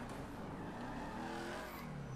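A car engine revs steadily in the video game GTA V, a continuous loud, droning roar with rising and falling pitch sustained throughout, no voices over it.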